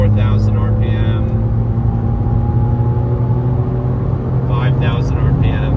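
A 2007 BMW Z4M Coupe engine climbs steadily through about 4,000 RPM, a loud, sustained rising drone with strong harmonics, with a voice speaking over the start and end.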